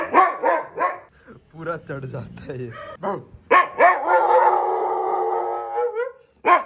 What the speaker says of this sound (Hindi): भौंक रहा कोई, देख बाहर